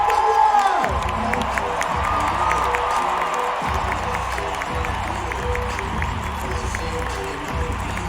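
A loud comedy show audience cheers and whoops continuously, with scattered shouts and some clapping mixed in, sustained for the whole stretch without letting up.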